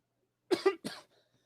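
A person coughs twice in quick succession, then gives a third rougher cough, close and fairly loud against silence.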